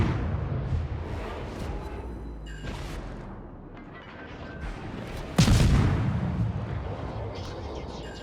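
Naval guns firing from a warship in World of Warships, with a loud sharp blast near the middle over a low rumbling background and faint earlier booms.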